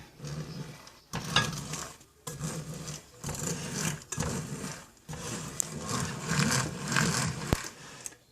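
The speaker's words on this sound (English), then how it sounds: "I'll mix this with this mixer" An electric hand mixer beats oatmeal cookie dough with craisins and white chocolate chips in a bowl, whirring in bursts of a few seconds separated by short pauses, close and steady, with scraping and rattling against the bowl.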